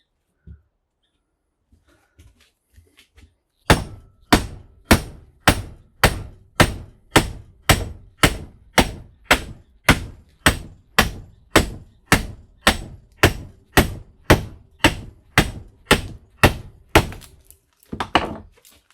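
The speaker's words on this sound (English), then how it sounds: "all we got to do is just pound this steel down and get these coils of aluminum out of here" Heavy hammer blows pound steel off aluminum coils from a large transformer clamped in a vise. About two dozen loud, evenly spaced metallic strikes come close up after a few faint taps.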